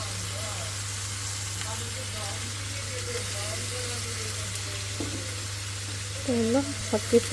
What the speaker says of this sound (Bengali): আমি এটা একটু কষায় নিই কষায় পানি দিব